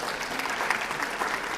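School audience at a June NJHS induction ceremony applauding the principal, a dense, steady patter of many hands clapping at once, even and sustained throughout.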